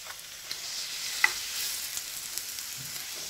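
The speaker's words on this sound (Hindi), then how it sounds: "मीडियम आंच पे हमने इसको फ्राई, मैंने घी डाल के इसमें गर्म किया है" A chicken roll fries quietly in ghee on a medium flame, a soft, low sizzle with a few faint ticks and spatters, no voices.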